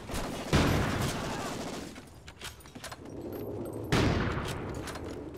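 Rapid bursts of video game gunfire, two loud volleys with a busy stretch of scattered shots between them, fairly close and dense.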